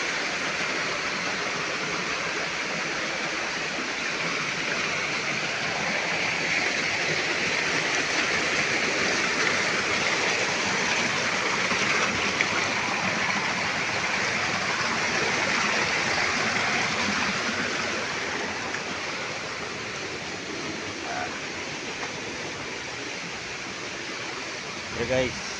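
Waterfall rushing and roaring steadily in a broad, continuous wash of water noise, heard close and constant throughout, with no talking.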